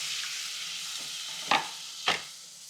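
Onions fry in hot oil for a mutton curry with a steady close sizzle, broken by two sharp stirring scrapes near the end.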